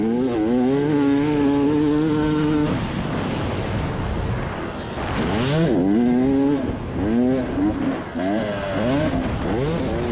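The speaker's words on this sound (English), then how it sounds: "a little two-stroke action here compared to typical four-stroke that I ride." Two-stroke enduro motorcycle racing at a sprint enduro cross test, Dutch Sports Park, Michigan, 2020: a near bike engine holds a steady tone, then revs rise and fall sharply in repeated swoops as the rider works through the course.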